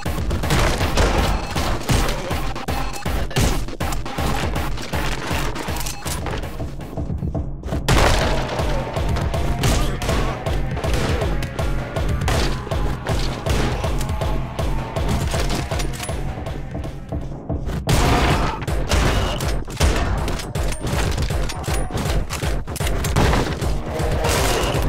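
Shotgun blasts in the fast first-person game Anger Foot, fired rapidly in dense, loud, rhythmic volleys with brief pauses around the middle, with constant combat noise and no talking.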